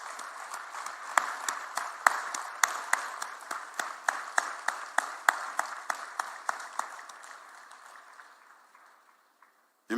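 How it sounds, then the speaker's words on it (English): An audience at KICC applauds for President Ruto, with distinct rhythmic claps standing out over a thinner spread of clapping that fades out toward the end. "let's give one more big round of applause to the President."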